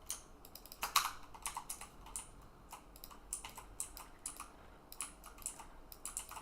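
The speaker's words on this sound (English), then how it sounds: "And keyboard clicks, obviously." Computer keyboard keys clicking in irregular quick bursts during a hardcore Minecraft session, close and fairly quiet, with no talking.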